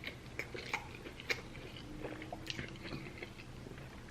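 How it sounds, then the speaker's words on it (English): Close, quiet chewing of a Chipotle bowl of steak, cheese, onions and peppers, with soft wet bites and crunches recurring irregularly over several seconds, ending on a sharp click. "I might just keep on eating."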